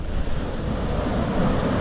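Continuous ocean surf rolling at Santa Clara del Mar beach during a kayak fishing outing, a broad steady wash of waves mixed with wind noise on the microphone, with no voices.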